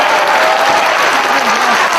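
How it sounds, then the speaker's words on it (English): Wrestling fans in an arena in Collinsville clap loudly during a Ring of Honor match. The applause is dense and steady, with crowd noise mixed in. "Draws some applause from the fans here in Collinsville."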